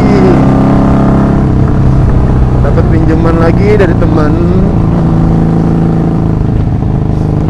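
A 1984 Honda Magna 750cc V-twin motorcycle runs on a test ride with a continuous, loud engine hum, and someone talks over it throughout.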